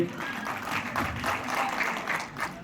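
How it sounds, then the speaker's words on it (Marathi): An audience at a stage performance applauds steadily, with dense, continuous clapping from many hands and a faint murmur of the crowd underneath. "जोरदार टाळ्या होते."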